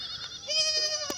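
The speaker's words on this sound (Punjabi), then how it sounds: "ਇਹ ਜਿਹੜਾ ਬੱਕਰਾ ਤੁਸੀਂ ਵੀਡੀਓ ਦੇ ਵਿੱਚ ਦੇਖ ਰਹੇ ਹੋ" A Barbari goat gives one drawn-out, nasal bleat, loud and close, with a short extra burst near the end and no talk over it.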